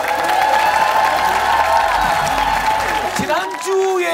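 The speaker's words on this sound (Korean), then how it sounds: "자, 저는 조금 박수로 환영해 주시고요." Studio audience on the SBS variety show Starking applauds to welcome a team of world-championship gold medalists, a steady broad clapping wash that stays loud throughout, with voices and a music sting over it near the end.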